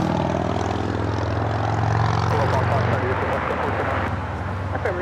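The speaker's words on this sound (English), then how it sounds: "This is Turkish Airlines Flight 180 heading back to Istanbul in the 787-9 Dreamliner." A Turkish Airlines Boeing 787-9 Dreamliner at LAX gives off a loud steady engine rumble and whine, with a voice talking over it through much of the stretch.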